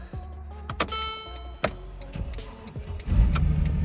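A 2012 Mercedes-Benz GLK 350 4Matic being started with a freshly programmed key, a few clicks and clunks inside the cabin followed by the engine cranking and catching into a low idle rumble.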